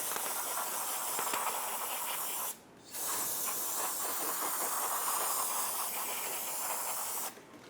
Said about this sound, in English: We're going to clean up all of the dust using some brake parts cleaner.